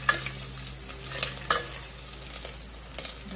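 Garlic sizzling and frying in a little oil in a pan while pinakbet is being cooked, with brief stirring scrapes and clinks over a steady close hiss.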